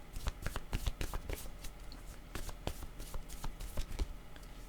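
Tarot cards being shuffled by hand, a steady run of soft, close riffling flicks and taps repeating for several seconds with no talk.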